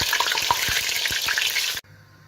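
Sliced tomatoes fry in hot oil with a steady close sizzle and crackle, punctuated by a few soft stirring knocks, then cut off abruptly to near silence.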